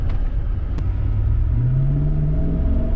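A 2011 Suburban fitted with a leveling kit pulls away on a test drive, its engine rumbling low and close as it accelerates, pitch rising smoothly with no voices.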